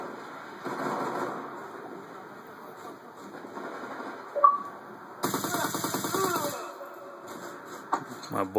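Sentry gun in a Call of Duty style shooter fires a rapid mechanical burst from about 5 to 7 seconds, with scattered game sounds and a faint voice elsewhere.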